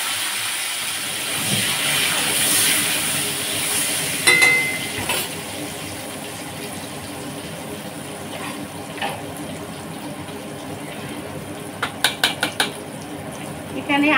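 Potato pieces go into a cooking pan and get stirred, a soft frying hiss with scattered scrapes and a few sharp metallic clinks of the spoon against the pan, heard up close.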